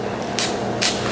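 A French Avenue perfume bottle sprays twice, two short airy hisses less than half a second apart, over a steady background hum.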